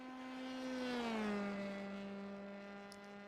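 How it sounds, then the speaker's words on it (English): Race car engine in a racing simulator, an F4 car at Mid-Ohio, holds a steady high-pitched whine that dips slightly in pitch as it passes, smooth and continuous with no talk. "On the rev limiter as he comes through the kink"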